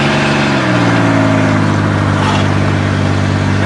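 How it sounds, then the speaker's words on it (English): An old 3.1-liter V6 car engine idles steadily and close by, a low continuous hum with a slight change in pitch early on, running alone with no talk. "Listen to that old V6 sing."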